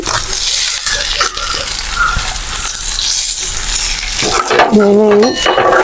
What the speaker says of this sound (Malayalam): ഇതാ വെളുത്തുള്ളി ചുവന്നുള്ളി കറുവേപ്പട്ട കറാമ്പ് ജീരകം ഇതെല്ലാം കൂടി ഇതിലേക്ക് ഇടുന്നുണ്ട്